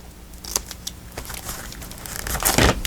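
A sticker is peeled off a sticker sheet for a planner, with a close, dry crinkling and tearing that rises into a louder ripping swell near the end.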